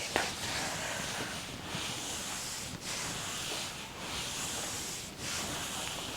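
Soft rubbing strokes of an effleurage massage smooth over the shoulders during an Indian head massage. They make a close, steady, breathy swish that eases off briefly every second or so with each new pass.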